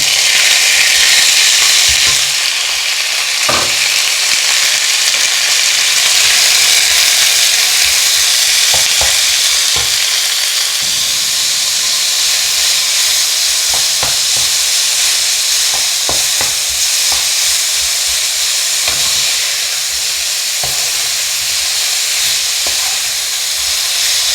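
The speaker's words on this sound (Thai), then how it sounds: "เจียวกระเทียมพอหอมจ้ะ ใส่หมูลงไปจ้ะ" Pork belly sizzles steadily in a hot pan with fried garlic and wild garlic flowers, a loud continuous frying hiss broken by scattered clicks and scrapes of stirring, with no voices.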